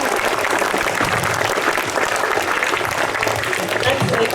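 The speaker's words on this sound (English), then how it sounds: "A big round of applause to all of you." School assembly audience applauding steadily for the whole stretch, a dense wash of clapping with crowd murmur and some voices mixed in, fairly loud and even throughout.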